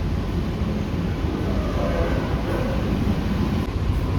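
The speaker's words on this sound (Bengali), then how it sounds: "ট্রেন ছেড়ে দিয়েছে দেখুন" A Sealdah–Barasat AC local train pulls out of Sealdah station, its steady low rumble and rolling noise heard from inside the coach, constant and fairly loud, with no talk.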